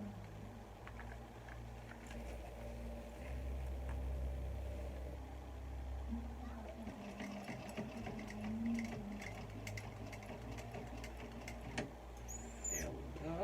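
Sewing machine stitching a small fabric bag, a quiet steady mechanical hum and whir that carries on for most of the stretch, soft and close, with no talk over it.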